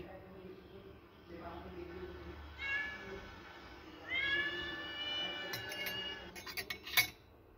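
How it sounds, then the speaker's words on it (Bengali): A cat meows outdoors in a few drawn-out calls, moderately close and clear, over low background hum, with light clinks of dishes and cutlery toward the end. "বাইরে বিড়ালের আওয়াজ।"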